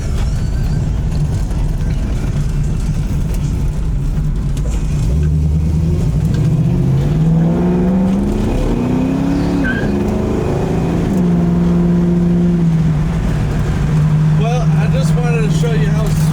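A 1969 Chevrolet Camaro RS with a Turbo 350 transmission drives and turns, its engine a loud, steady, close rumble that rises in pitch with throttle before settling back.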